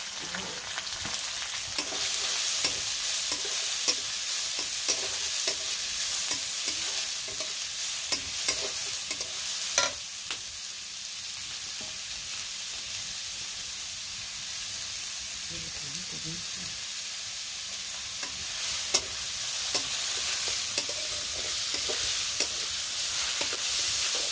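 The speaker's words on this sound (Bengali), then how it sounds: "পেঁয়াজটি ভালো করে লাল লাল করে ভাজবে" Onions and green chilies frying in a pan for egg bhuna, a loud continuous sizzle with repeated scraping stirs throughout, no voices.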